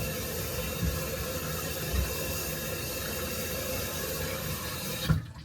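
Water from a kitchen sink runs steadily down the drain in a continuous, fairly loud rushing stream, with a few faint knocks and a gurgle near the end.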